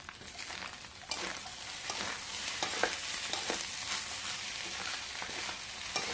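Onions frying in a pan for fried rice give a soft, steady sizzle, with intermittent scraping stirs against the pan, fairly faint and heard alone.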